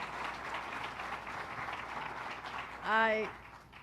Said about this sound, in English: let's give him a round of applause, Commissioner Richard Ball